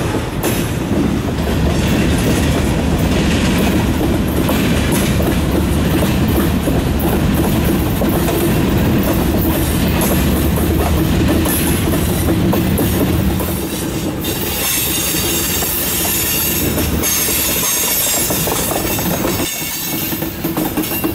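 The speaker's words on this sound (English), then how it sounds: "The Holly Sub local has just finished switching cars into the yard," A CN freight train, the Holly Sub local, switches cars into a rail yard with a loud, continuous rumble and clatter of rolling wagons and occasional wheel squeal, no voices present.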